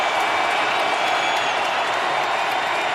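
A loud, steady roar from a stadium crowd fills the air at an NFL game, Pittsburgh Steelers at Cincinnati Bengals, a continuous wash of noise with no breaks.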